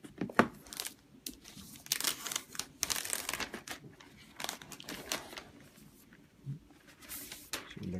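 Plastic and paper packaging of a 2017 MacBook Pro crinkling and tearing as it is unwrapped, with bursts of rustling and crumpling close by, alone without speech.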